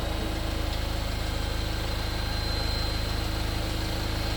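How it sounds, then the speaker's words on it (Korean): A Hyundai Maxcruz 2.2 diesel AWD SUV engine idles steadily up close, a constant low rumble with a faint rhythmic clatter and no voices. "디젤 소리, 엔진 소리"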